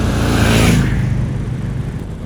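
A 2021 Harley-Davidson Sportster 1200 48 motorcycle accelerating, a loud, close engine roar that swells and then settles into a steady rumble, with no voices.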